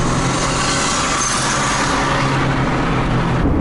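A boosted B20b engine in a 1988 Honda CRX accelerating hard, a loud continuous roar with rushing wind, close and steady throughout, with no voices.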